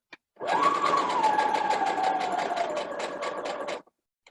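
A sewing machine runs a continuous burst of rapid stitching through doll fabric, a close, loud, evenly pulsing mechanical whir that lasts about three seconds before stopping abruptly.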